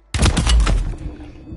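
A single sniper rifle shot in Warzone, one loud, sharp close blast that decays over about a second.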